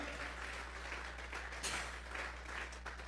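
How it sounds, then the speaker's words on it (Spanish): A church congregation claps in praise during a Spanish-language worship service, a steady, fairly quiet patter of many hands with no voices. "Vamos a regalarle ofrenda de palmas al Dios de la gloria."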